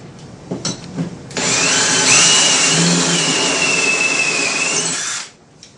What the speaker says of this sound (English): First, you drill the damaged threads.